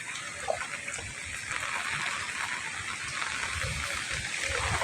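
Rain-fed floodwater current gushes through a village near a graveyard and mosque steps, a soft, continuous rushing flow heard from a short distance and growing a little louder toward the end.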